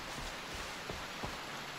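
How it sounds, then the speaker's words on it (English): Heavy rain in the video game Far Cry 3, a steady broadband hiss of downpour with a few soft thuds, continuous and fairly quiet throughout. "I cannot hear anything over this rain"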